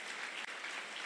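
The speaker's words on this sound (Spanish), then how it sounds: "Denle un aplauso al Señor." A crowd claps in sustained, even applause, a soft continuous rush of hands with no voices over it.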